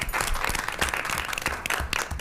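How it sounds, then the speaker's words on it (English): A room full of people applauding at a Nashville Public Library board meeting, steady dense clapping throughout, fairly loud and close. "while we're clapping"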